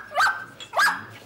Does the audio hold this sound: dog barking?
yes